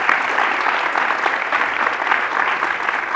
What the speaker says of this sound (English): give a big round of applause to Peter and Erin